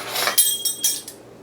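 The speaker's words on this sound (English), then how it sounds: "going to scrape it down with your finger or a spoon" A spoon scrapes and clinks against a bowl while dressing is worked down for a smashed cucumber salad: a few bright, short metallic strokes close up, fading into quiet, with no talk.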